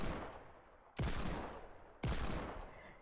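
Two sharp gunshot bursts about a second apart in Fortnite: Battle Royale Season 8 aim training, each loud crack fading into a short echoing tail, with no talk over them.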